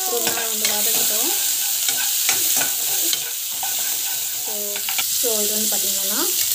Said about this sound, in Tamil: ஆனியன் வந்து போட்டுட்டு நல்லா வந்து வதங்கட்டும்.